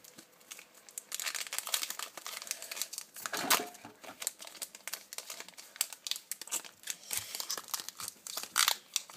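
Crinkly plastic and cardboard packaging of a Reshiram EX Pokémon card box is handled, crumpled and torn open up close, with irregular crackling and rustling throughout.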